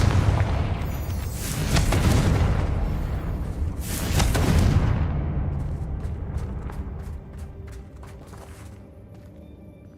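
Booming spell blasts from the Confringo fire spell in Hogwarts Legacy, two heavy explosive bursts with long rumbling tails, followed by quieter crackling pops and scattered impacts as the rumble fades.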